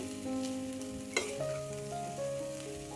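Besan zunka with plenty of chopped coriander, cooked Konkani village style, stirred in a pan: a quiet, steady sizzle with soft scraping strokes and one sharp clatter of the spoon against the pan.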